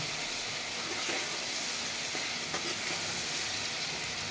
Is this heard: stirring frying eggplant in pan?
yes